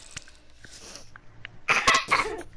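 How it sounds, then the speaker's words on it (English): A small cough at the start, then a couple of louder, harsh coughs close to the microphone near the end, with quiet pauses between. "Stop coughing."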